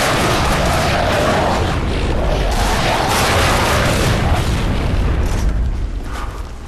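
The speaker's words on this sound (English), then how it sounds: "you gotta keep moving in order to avoid the lambent wretches' explosions and attacks" Lambent wretch creatures exploding in the Gears of War video game: loud, booming blasts and crackling bursts that overlap in a dense, continuous barrage before easing off slightly at the end.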